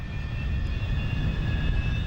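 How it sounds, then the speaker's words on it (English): A Lockheed T-33 jet trainer, a two-seat derivative of the F-80, flies past at the Coventry airshow, a steady loud engine roar with a sustained whine, no speech. "The T-33 is one of the most widely used jet trainers in the world and continues to serve in various armed forces to the present day"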